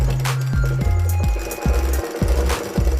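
Sewing machine stitching a long blouse, running in short bursts of rapid mechanical chatter with brief pauses between runs, close and fairly loud with no talking.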